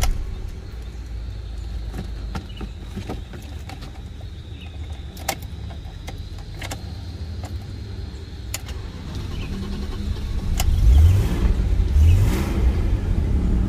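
A 1991 BMW 520i with the M50 VANOS engine and low mileage runs at a steady, close idle, then swells louder in a pair of revs near the end. No one speaks.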